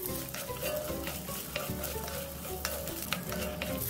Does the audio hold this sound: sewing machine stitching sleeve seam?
no